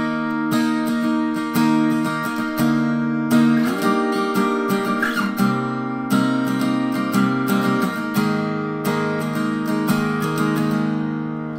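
Acoustic guitar tuned a half step down plays the intro of a song, a steady strummed chord progression with ringing harmonics, close and clear, with no voices throughout.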